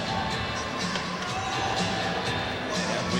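Large hockey crowd at the CoreStates Center in Philadelphia during the 1996 World Cup of Hockey semi-final, Canada vs. Sweden, a steady dense roar of cheering and chatter filling the arena.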